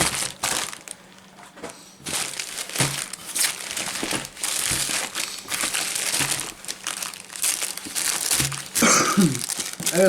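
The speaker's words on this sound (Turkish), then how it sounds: "Biz de bir açalım bakalım. Xiaomi Fimi Palm 2 nasıl bir şeymiş." Packaging of a Xiaomi FIMI Palm 2 crinkles and crackles up close as it is unwrapped, with continuous plastic and paper rustling in uneven bursts and no speech.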